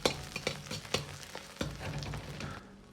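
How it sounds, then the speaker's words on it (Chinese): Ginger and scallions stir-fried in hot lard in a wok, repeated spatula scrapes and knocks over a steady sizzle, close and fairly loud with no talking. "先煸炒出香味"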